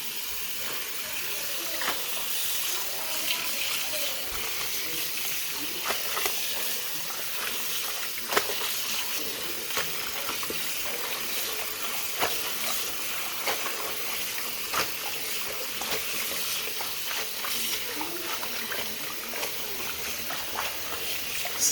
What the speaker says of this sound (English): So this is how we wash it.